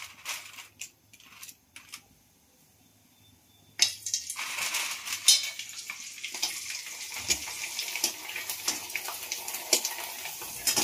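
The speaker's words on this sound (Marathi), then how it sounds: "तर पहा आपल्या ह्या बॉबी पापड्या तेलात टाकल्या" Bobby papad strips hit hot oil with a sudden loud burst of crackling, sizzling frying that continues steadily after a few quieter clinks and taps at the start.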